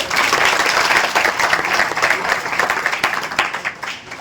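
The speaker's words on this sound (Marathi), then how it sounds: "त्यांच्यासाठी पुन्हा एकदा टाळ्या वाजूया" Sustained applause from a college audience at a Junnar junior college function, dense and steady clapping filling the whole stretch, loud and close with crowd texture throughout.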